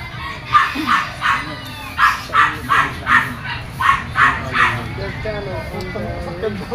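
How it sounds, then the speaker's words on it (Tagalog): A dog barks repeatedly in a steady rhythm of sharp, fairly close barks, pausing briefly, with background noise and a faint voice underneath. "ang aso ay maingay"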